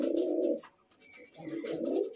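Domestic pigeons cooing close by, two rolling low coos separated by a brief pause, with no talk.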